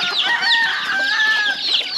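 Free-range chickens clucking on a farm, a steady close chorus of overlapping clucks and calls that runs through the whole stretch with no talking.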